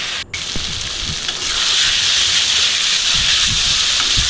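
Chicken cooking down in a red spice masala, oil separating from the meat, gives a loud, close, continuous sizzle and hiss with occasional stirring scrapes, growing fuller after the first second; no one speaks.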